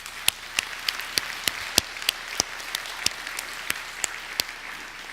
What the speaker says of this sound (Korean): 우리 하나님께 우리 감사의 박수를 올려드립시다